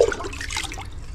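Water runs and splashes as potatoes, onion, tomato, green chillies, ginger and garlic are rinsed, a soft steady trickle heard briefly and fairly faint.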